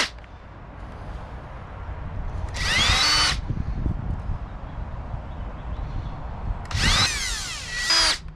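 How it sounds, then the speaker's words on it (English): A power drill bores holes into wooden boards for a DIY planter, with two loud, close bursts of whining motor and bit grinding into wood, separated by a pause of quieter room noise. "Drill me some holes."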